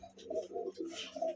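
Malwai Punjabi pigeons coo softly at close range, a few low rolling coos in quick succession with faint chirps above, quiet overall.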